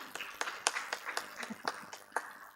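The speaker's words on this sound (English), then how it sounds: "may I have round of applause from the audience" Audience applause from a crowd at an event: brisk, fairly quiet clapping, short and steady, lasting only a couple of seconds.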